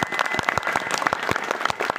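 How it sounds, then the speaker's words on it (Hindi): An audience at a religious discourse gathering claps to welcome a revered Maharaj, giving dense, steady applause with sharp individual claps throughout, fairly close and loud. "जोरदार तालियों से एक बार महाराज जी का स्वागत करेंगे।"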